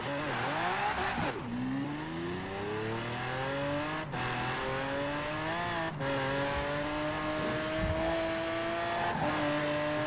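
A dirt-tuned Mosler in Forza Horizon 4 roars steadily under load, its engine pitch climbing through gears with brief dips at each shift, loud and close throughout with no talking.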